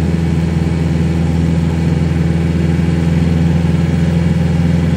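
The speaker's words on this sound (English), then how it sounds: "Accelerating a little early." A Dodge Dakota fitted with a TDI ALH diesel engine and NSG370 transmission, accelerating under boost on the road; a steady, loud mid-low engine drone with constant tone and no talk.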